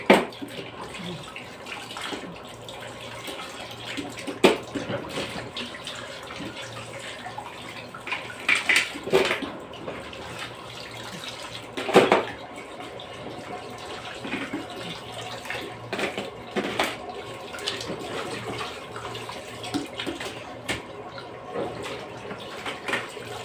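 Running kitchen tap water washing food, a steady low splashing flow with occasional louder splashes and clatter of handling, fairly close.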